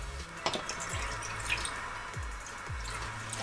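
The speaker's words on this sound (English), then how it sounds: "So you just take this jar, pour some vinegar in." Vinegar poured into a jar, heard as soft liquid drips and trickles with a few low gurgling splashes, close and faint, with no speech.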